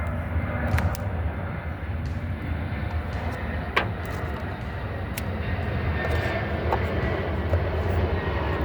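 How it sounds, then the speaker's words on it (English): A broad, steady engine roar of a passing airplane fills the background, loud and continuous, with a few faint clicks on top. "Got airplanes over here,"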